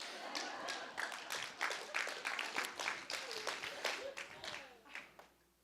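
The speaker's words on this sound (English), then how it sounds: "now the applause" Applause from an audience at an Alzheimer's and dementia caregivers conference, a steady patter of many hands with distinct sharper claps, close and moderately loud for several seconds before thinning out.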